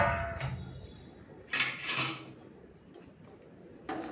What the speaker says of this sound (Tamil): பின்னர் நன்கு கிளறி விடவும்.